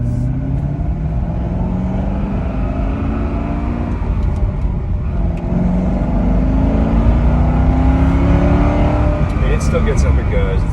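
A stock-exhaust C6 Corvette, about sixteen years old, pulls hard with a deep engine note climbing through several gears, heard from inside the car and loud and close, while someone talks over it.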